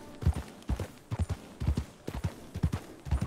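A horse trots past with hooves clip-clopping in a steady, rhythmic beat of paired strikes, fairly faint and without talk.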